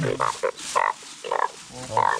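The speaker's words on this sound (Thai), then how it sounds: "มีกบ" Frogs croak at night in the Thai countryside during the frog-catching season. The calls come as repeated close, loud bursts, with short pauses between them and no talking.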